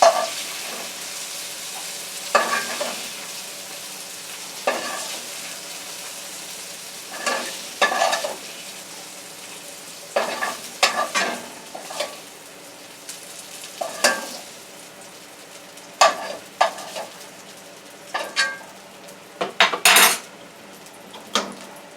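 Repeated scraping and clanking of a utensil in a frying pan of stir-frying vegetables over a soft sizzle, with irregular stirring strokes every second or two.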